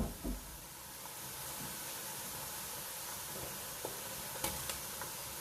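Ginger and garlic sizzle steadily in a hot pan with softened onions for street-style Lahori chikar cholay, a constant close frying hiss broken by a few light stirring clicks and taps.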